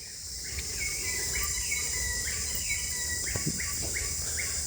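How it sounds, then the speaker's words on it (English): Several birds sing outdoors in repeated bright chirping phrases over a steady high insect or cricket drone, with a faint thump or two partway through and no talking. "Just listen to these birds."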